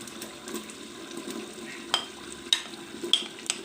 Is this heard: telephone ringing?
no